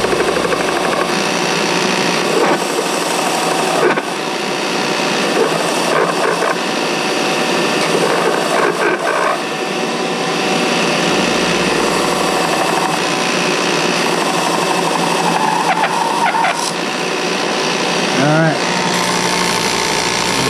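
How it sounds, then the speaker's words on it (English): A belt sander running continuously as it grinds a radius into wooden soundboards for a long box turkey call, loud and close, with a slightly changing pitch as the work is pressed against the belt. "We use a sander, belt sander for that."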